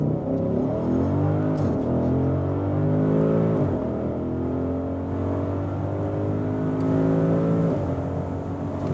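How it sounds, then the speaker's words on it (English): A 2021 Audi SQ8 with a petrol V8 accelerates at full throttle on a test track, its engine roaring loudly and climbing through several gears with brief dips at each upshift, close and sustained without talk. "let's just floor it out acceleration wise and do some dynamic driving."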